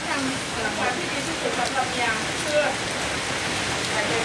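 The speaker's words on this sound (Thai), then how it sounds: "บรรยากาศฝนตกพี่น้อง ฝนตกได้นี่ฝนตก" Steady rain falls in a rural Thai home kitchen setting, a dense continuous hiss of drops on surfaces throughout with no voices.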